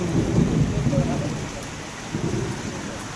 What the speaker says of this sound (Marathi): आज इकडे गावामध्ये आपल्या पाऊस पडते